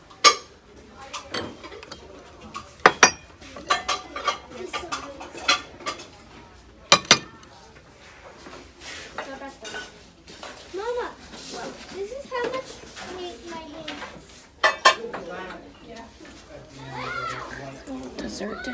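Dessert dishes in a thrift store, a set of four, clinking sharply a few times as they are handled, while people talk throughout and children's voices sound in the background.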